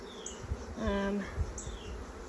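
Honeybees buzz around an open backyard hive during an inspection, a steady close insect hum with a few brief louder passes near the ear.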